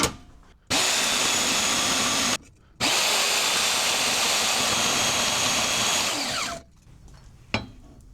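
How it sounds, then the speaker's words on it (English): Power tool cutting a small plastic part for a DIY clamp, a loud steady whine in two long bursts separated by a short pause, then it spins down and stops, heard close with no talking. "So I'm just gonna cut me a 1 inch by however wide that thing is."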